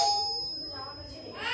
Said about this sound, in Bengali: এমন না, বেল দিল কে?